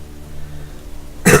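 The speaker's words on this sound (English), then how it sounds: "Oh, I need to cough." A man coughs and clears his throat once, a sudden loud rough burst near the microphone at the very end after a quiet stretch of faint background hum.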